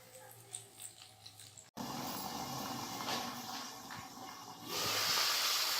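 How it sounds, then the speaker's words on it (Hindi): Green masala fries in oil in a handi with a strong, continuous hiss that starts abruptly after a short quieter stretch and grows louder near the end, close and steady. "अब हमने इसको इतनी देर भूनना है कि ये बिल्कुल अच्छा सा मसाला भून जाए इसमें और ऑयल से बिल्कुल अलहदा हो जाए"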